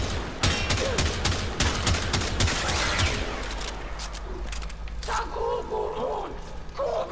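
Rapid semi-automatic rifle fire from the Tiberon Prime in the Warframe video game, a dense run of loud shots for about three seconds, then sparser sporadic shots over background game effects.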